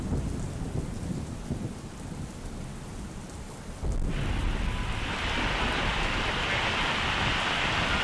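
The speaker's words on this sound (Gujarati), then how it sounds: "વીજળીના કડાકા ભડાકા સાથે વરસાદ વરસી રહ્યો છે।" A heavy downpour with thunder pours over Ahmedabad in a constant broad rain hiss. Low rumbling builds beneath it, then the rain abruptly swells louder and brighter midway and stays intense, with no voices.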